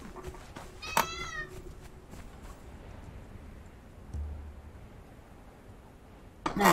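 A cat gives one clear, close meow, rising and then falling, against a quiet background hiss, followed by a brief rustle near the end.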